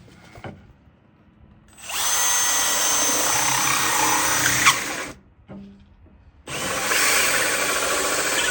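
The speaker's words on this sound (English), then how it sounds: "Now I'm drilling second hole for charging cord." A power drill bores a hole through a house wall for an EV charger cord, whining loudly and steadily for about three seconds, stopping briefly, then starting again at full speed.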